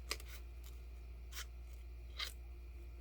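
Scissors cutting paper for a small paper kite, a few crisp snips scattered over a quiet background, close and fairly faint, with no talk.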